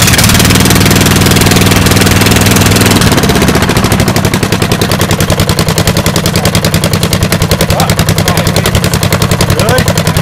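A homemade mud mower engine sputters after a pull start, then settles into a loud, rapid, evenly pulsing putter, close by and dominant throughout.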